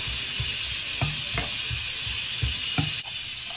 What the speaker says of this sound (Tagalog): Igisa na natin, sabay-sabay na natin yung luya, sibuyas, saka bawang